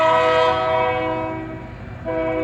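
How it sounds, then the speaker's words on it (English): A passing freight train sounds its horn in a long sustained blast, loud and close, fading slightly before swelling again, with low rumble of the rail cars beneath. "I just heard a train come back."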